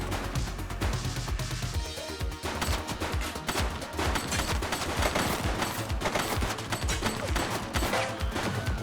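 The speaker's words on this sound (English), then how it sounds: "He's shooting!" Rapid gunfire from a shootout in the police video game The Precinct, dense bursts of automatic shots crackling continuously and loudly throughout, with no clear pauses between volleys.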